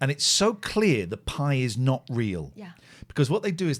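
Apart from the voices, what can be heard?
None of the usual background noises is heard.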